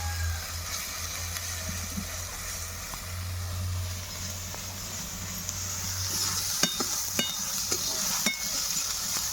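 Ginger paste goes into a pan of browned fried onions for a doi katla, producing a low steady sizzle with a background hum, followed by several close spoon scrapes and clicks against the pan.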